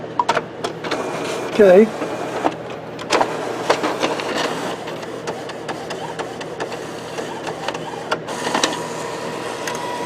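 An Epson printer with a continuous ink system prints a nozzle check, whirring steadily with repeated clicks and mechanical shuttling, close by, while a person speaks briefly.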